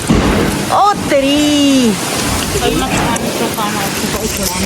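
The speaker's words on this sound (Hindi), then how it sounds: "और बारिश आ गई" Heavy rain pours down steadily while people talk and exclaim over it, their voices rising above the constant wash.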